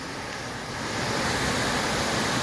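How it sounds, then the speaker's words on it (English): Agawamuck Falls crashes down a steep gorge as a dense, continuous roar of water that swells slightly louder and stays steady throughout, with no voices. "it comes crashing down this mountainside in a gorge that looks pretty new because it is"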